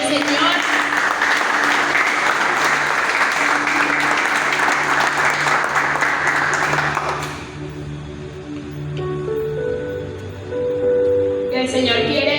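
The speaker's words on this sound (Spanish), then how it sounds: "Bríndele un aplauso allá al Señor." A church congregation at a prayer service breaks into loud, sustained applause over a steady musical accompaniment, then the clapping stops abruptly and the music carries on alone.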